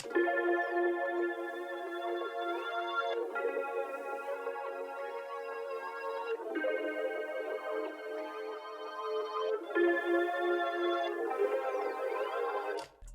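Synth pad chords run through a Hologram Microcosm guitar pedal, one layer pitched up and reversed, swell and shimmer in washy, blurred chord blocks that change every few seconds and sustain alone without any voice.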